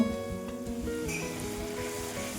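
Whole garam masala spices sizzle softly in a hot pan with potato frying nearby, a steady gentle crackle close by with no talking over it.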